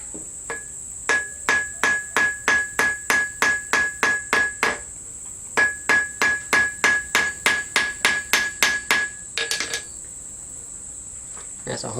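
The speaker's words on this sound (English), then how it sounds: "you just hammer down that bolt" Two runs of sharp, rapid metallic hammer strikes on a bolt fixing a steel snare loop to a tree, about a dozen evenly spaced blows each, ringing over a steady high-pitched hum.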